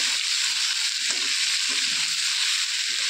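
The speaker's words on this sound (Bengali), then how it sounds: "একটু নাড়িয়ে নিচ্ছি খুন্তি দিয়ে" Ridge gourd and potato sizzle steadily in hot oil while a metal spatula stirs them, producing a constant bright frying hiss with a few soft scraping strokes underneath.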